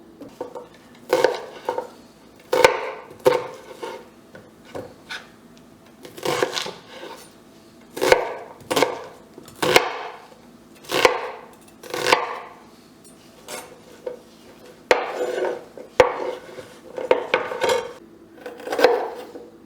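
Ingredients for a chicken korma are chopped coarsely with a knife on a board in a kitchen, giving irregular knocking thuds and clacks, spaced a second or two apart, steady across a long stretch without talk.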